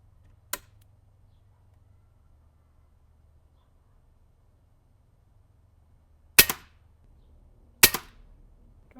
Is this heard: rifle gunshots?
yes